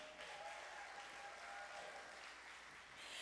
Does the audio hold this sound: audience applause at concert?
yes